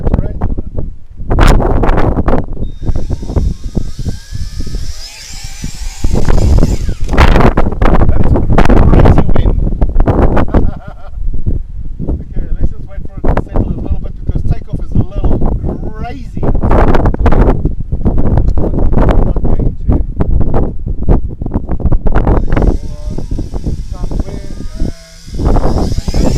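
Strong gusting wind buffets the microphone outdoors while a Tarantula X6 drone is flown in high winds, a loud continuous roar with rushing bursts that nearly drowns out someone talking over it.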